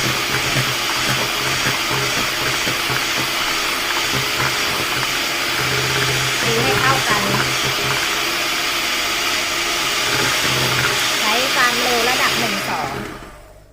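An electric mixer beats raspberry cheesecake batter as a steady, loud whirring drone that runs almost continuously and then cuts off at the end, with someone talking faintly underneath.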